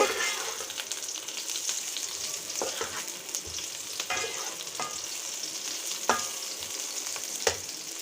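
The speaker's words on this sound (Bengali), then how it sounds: "কারি কুকার অন করে দিয়েছি দিয়েছি তেল দিয়েছি পেঁয়াজ পেঁয়াজ গোল্ডেন ব্রাউন করে ভেজে নিব" Onions frying in oil in an electric curry cooker for a homemade Bangladeshi fish curry give a steady, close sizzle with occasional stirring scrapes and clicks throughout.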